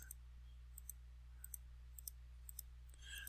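Soft, sharp computer mouse clicks tap out at an uneven pace, roughly a dozen close single clicks over a low steady hum while drawing in AutoCAD, with no talking.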